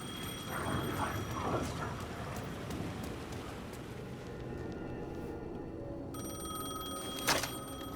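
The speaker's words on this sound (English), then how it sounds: "The phone was ringing again." A phone rings in the video game Alan Wake 2, a steady high electronic tone heard through the second half amid soft rain-like ambience, fairly quiet with no speech.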